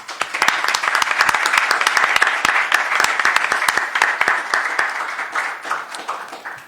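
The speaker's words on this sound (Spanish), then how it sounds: "Les pido por favor un fuerte aplauso" A crowd applauds warmly, many hands clapping in a dense, steady patter that slowly thins toward the end.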